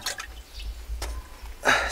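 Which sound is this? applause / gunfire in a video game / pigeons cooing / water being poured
water being poured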